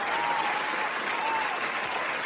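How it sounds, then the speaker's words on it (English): Audience applause at a showcase, a short, steady burst of many hands clapping at moderate volume, with no talk over it. "Give him a hand clap."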